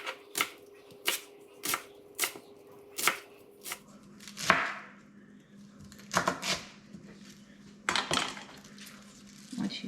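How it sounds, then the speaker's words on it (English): Cabbage being sliced thinly with a knife on a board, crisp evenly spaced chops that come quickly at first and then turn irregular, with faint kitchen clatter. "then you're going to chop your cabbage as thin as you can get it"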